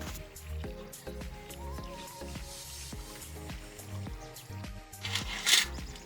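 Water is poured onto a newly planted almond sapling outdoors, making a quiet, soft trickle with scattered drips and wet squishing sounds, heard alone without talk.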